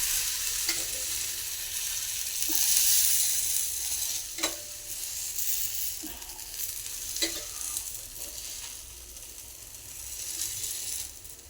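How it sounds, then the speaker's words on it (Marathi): Thalipeeth frying steadily in a pan as ghee is poured over the top, a constant close sizzle with a few sharp scraping clicks at intervals. "वरतून तुपाचे धार सोडायचे"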